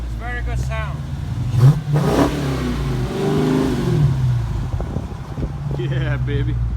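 Dodge Challenger R/T Scat Pack with a 485 hp engine, a salvage auction rebuild, revving its exhaust at close range, a rising and falling roar with people talking over it.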